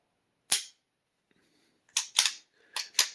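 Sharp mechanical clicks from the trigger break of a 1911-style pistol: one isolated snap, then a quick pair and another pair, close and crisp against silence.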